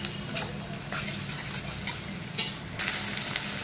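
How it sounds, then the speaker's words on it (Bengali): Chickpeas sizzle and fry in hot oil as they are tempered in a pan, a steady close crackle with scraping stirs and occasional metal clinks, swelling into a louder hiss near the end. "এই যে বুটটা বাগার দিব"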